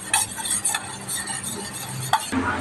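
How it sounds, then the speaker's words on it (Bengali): Spoon stirring chili sauce, green sauce and another sauce together in a bowl, a steady scraping swirl with light clinks near the end, close and alone. "3টে সস মিলে এবার একসাথে মিক্সিং করে ফেলা হবে।"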